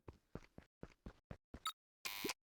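An electronic keypad lock in the video game Beacon Pines gives a run of short, evenly spaced clicks and tones, then one longer, harsh buzz-like tone to finish.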